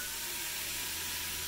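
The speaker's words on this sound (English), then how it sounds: "You can hear it sizzling." Pork chops sizzle on a smokeless electric grill with a soft, steady hiss and crackle, faint and continuous with no talking.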